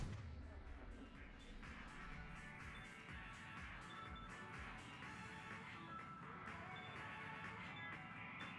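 Continuous gunfire and rumbling blasts from a battle in Mass Effect 3 Legendary Edition, dense and steady throughout with no clear pauses.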